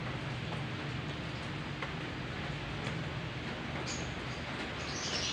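Steady daytime rain, a faint, even hiss of drops falling without pause, with nothing else standing out.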